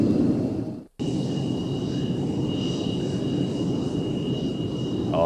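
A MiG-29 jet fighter in a flying display gives a loud, sustained broadband engine roar with a steady whine, briefly cut off near the start and then continuous, with no talk.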